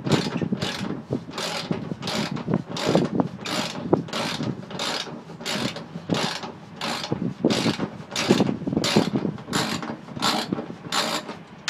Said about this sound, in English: how about we take a look at me pulling out a couple bolts?